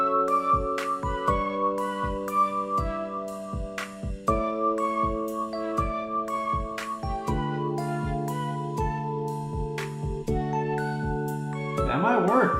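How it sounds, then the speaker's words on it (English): A phasing bells synth preset in Logic Pro rings out as a repeating run of bright, bell-like chimed notes with sustained shimmering tones, played clearly in a loose melodic pattern with no talking. "Phasing bells, what do you got for us?"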